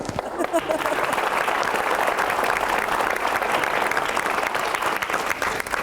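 An audience at a live event claps loudly and continuously for several seconds, a dense, even roar of applause with a faint crowd murmur beneath.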